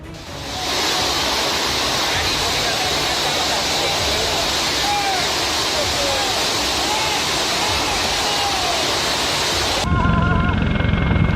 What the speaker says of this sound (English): the Guarinas River burst over its banks, turning Pater's streets into raging waterways and carrying away several vehicles